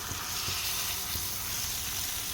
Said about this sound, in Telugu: ఇలా తాలింపు బాగా ఫ్రై అయిన తర్వాత ఉడికించి పెట్టుకున్న చిక్కుడుకాయను వేసేసుకోవాలి